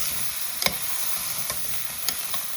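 Bottle gourd frying with cumin and methi seeds in a pan, a constant hiss of sizzling oil with several sharp spoon clinks and scrapes as it is stirred, no voices.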